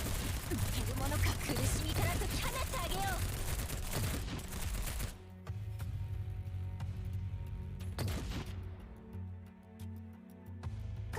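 Sustained automatic gunfire from the Girls' Frontline video game, a dense rattling fusillade that gives way to scattered sharper shots over a low steady game soundtrack.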